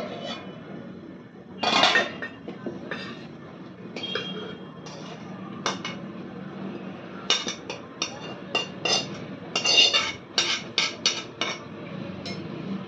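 Cooked whole eggplants for a Khandeshi green chilli masala dish being lifted from a pan onto a plate, producing a string of close metallic clinks and scrapes of utensil on cookware, with no talk.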